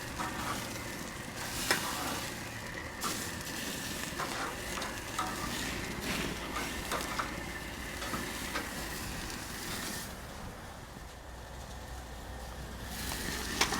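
Wagyu ribeye steaks sear on a very hot surface with a loud, continuous sizzle and crackle. It stays close and steady throughout, with occasional sharper pops and clicks.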